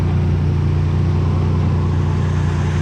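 A Nissan Navara with a VG30 engine warms up, a steady low rumbling idle running continuously at close range with no talk.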